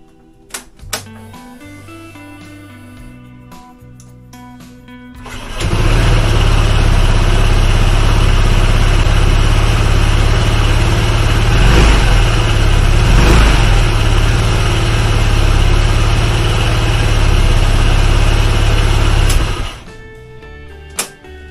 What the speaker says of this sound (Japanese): ちょっとね、エンジンかけてみましょうかね。